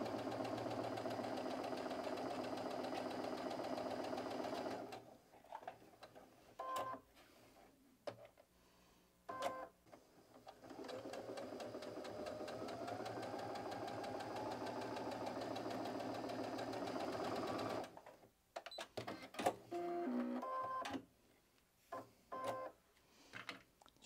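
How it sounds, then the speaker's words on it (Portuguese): A sewing machine runs in steady continuous bursts while stitching close to the edge along each side of a fabric strip for a pocket organizer, with short pauses and handling noises between runs. "a gente vai fazer uma costura de cada lado da tirinha, fechando assim"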